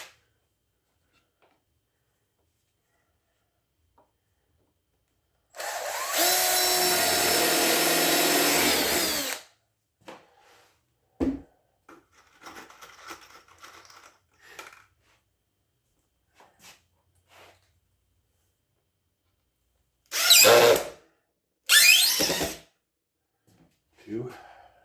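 A power drill bores screw holes into wood in two bursts: one long steady whine near the start, then two short quick runs near the end, with scattered handling noises and low murmurs between.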